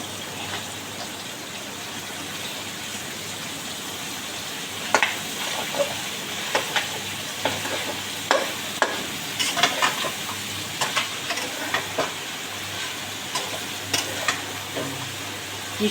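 Shredded cabbage fries in a pan with chicken giblets and liver, a steady close sizzle with a spatula scraping and clinking against the pan in irregular strokes through the second half.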